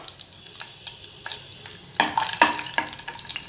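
Whole spices (fennel, cardamom, cinnamon bark and three cloves) fry in hot oil in a pan with a soft crackle, punctuated by scraping stirs and a few louder pops, nearby and on their own.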